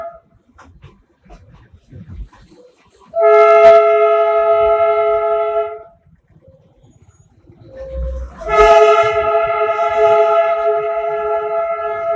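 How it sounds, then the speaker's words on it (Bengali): The Darjeeling toy train, travelling from Batasia Loop to Ghum station, sounds two long, loud, close horn blasts separated by a short quiet gap, over faint rumble and background noise. "বাতাসিয়া লুপ থেকে টয় ট্রেন এখন ঘুম স্টেশনে এসে দাঁড়িয়েছে"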